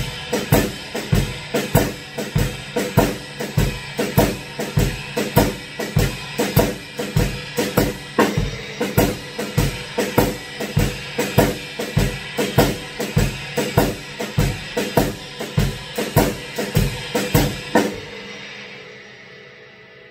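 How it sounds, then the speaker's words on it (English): A drum kit plays a steady blues shuffle with a jazz feel, even swung hits repeating for about eighteen seconds, close and fairly loud, then ringing out to silence. "Start by developing a good, consistent blues shuffle feel."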